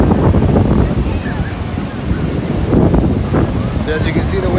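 Steady, loud ocean surf rushes without a break at Huntington Beach during a surf competition, with wind buffeting the microphone.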